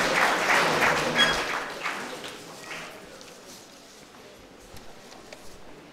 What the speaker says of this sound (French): On peut encore applaudir pour eux.